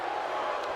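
A wrestling arena crowd in a WWE 2K video game roars in a loud, dense wash of cheering, with no separate voice talking over it.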